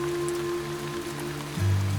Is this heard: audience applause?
no